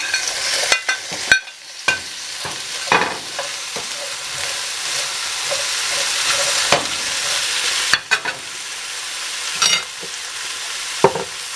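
Vegetables stir-fry with chicken breast in a hot pan, giving a loud, continuous sizzle punctuated by frequent spatula clacks and scrapes, with no voices.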